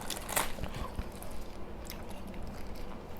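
Close chewing and biting of crunchy raw vegetables eaten with grilled tilapia, soft irregular crunches and mouth sounds over a faint outdoor background.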